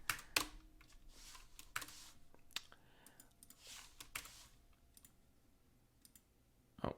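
Clicky keystrokes on a computer keyboard as a password is typed, irregular taps in short bursts with pauses between, close and fairly quiet, with no talking.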